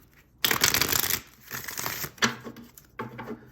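Tarot cards being drawn and shuffled in several quick riffling bursts, close and fairly loud, with short pauses between each burst and no talk over them.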